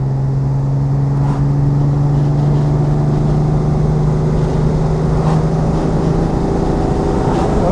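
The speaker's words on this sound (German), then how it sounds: "Man merkt auch, dass die 12-Zylinder-Maschine schön Kraft hat." A 1966 Ferrari 330 GTC's V12 engine runs steadily and loudly from inside the car, a continuous smooth drone holding an even pitch, with no speech over it.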